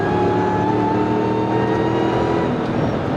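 A lifted Jeep at a 4x4 shop's grand opening holds a steady, loud engine drone under acceleration, with a rich low rumble that stays even throughout and no talking.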